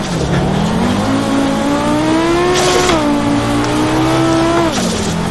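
Group B Audi rally car engine in the racing game AMS1, loud and close: a steady high rev with a strong harmonic whine, dropping sharply twice as the gears go down, with no talk over it.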